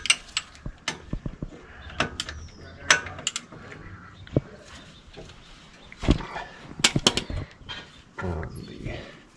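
Ratchet clicks and metallic clanks come in irregular close bursts while the brake caliper bolts on a Chevy truck are loosened outdoors in a driveway, with a voice talking at times over the tool sounds.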